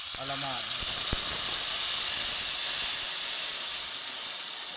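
Shrimp paste sautéing with garlic and chili in a hot pan gives a steady, loud hiss and sizzle throughout, with a short snatch of voice near the start.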